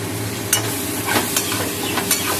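Chicken pieces go into a hot pan with butter and no oil, giving a steady close sizzle broken by a few sharp clinks and scraping stirs.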